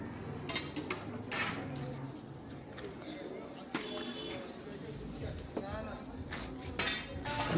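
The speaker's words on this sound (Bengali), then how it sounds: "দেখুন কড়াটা কত বড় দুজনে মিলে এত বড় যে একার পক্ষে নাড়া তো সম্ভব নয় তাই দুজনে মিলে নাড়ছে" Two people stir a huge kadai at a temple food offering for a crowd, with metal scrapes and clinks ringing out irregularly under steady nearby talk and background bustle.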